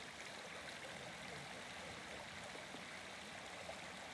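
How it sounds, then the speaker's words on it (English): A river stream flows in a continuous, even rush of water, soft and steady with no voices or other sounds. "listen to the stream,"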